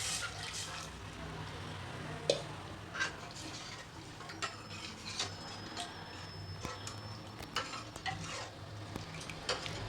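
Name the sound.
boiled spinach stems frying in tempering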